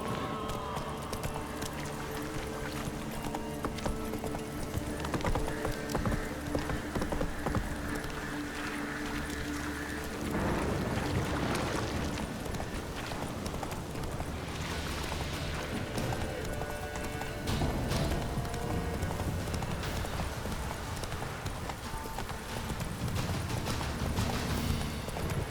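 Roach the horse gallops in The Witcher 3: Wild Hunt, with steady rapid hoofbeats and clip-clop running continuously beneath game music and ambience, and brief whinnies along the way.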